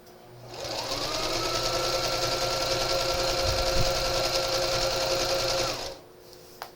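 Sewing machine stitching thin straps of knit fabric, a steady, fast mechanical whir that starts up, runs evenly for about five seconds close by, then stops.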